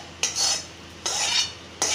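Three firm, evenly spaced pounding strokes in a mortar and pestle crushing spices, each a bright crunching thud followed by a grinding rasp, close and alone.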